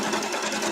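A sewing machine stitches a quilt block with a steady, close, continuous whirring hum that stays level from start to end.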